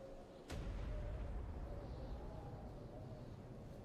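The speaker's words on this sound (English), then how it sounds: "Hear explosions." A sudden deep boom sets off a sustained low rumble of explosions in the video game ARK: Survival Evolved, rolling on steadily afterward, with no talking.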